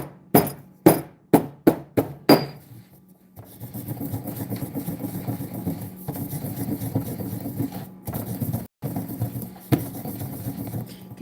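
A stone mortar and pestle grinds spice, opening with a quick series of sharp, hard strikes, then settling into a continuous gritty grinding rasp, close and moderately loud, broken by a few brief pauses.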